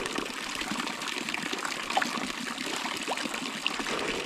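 Water pouring out of a tilapia pond whose earthen bank has collapsed: a continuous close trickling and gushing flow with small splashes scattered throughout, and no voices.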